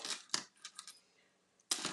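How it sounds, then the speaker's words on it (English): Ribbon scissors snipping through ribbon for a paper craft project, two or three crisp close snips separated by a quiet pause, soft and alone. "We'll grab our ribbon scissors"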